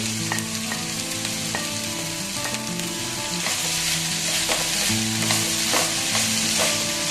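Cocktail sausages and salami fry in a pan with split green chilies and tomatoes, a steady close sizzle broken by repeated stirring scrapes and clanks, with background music tones and no speech.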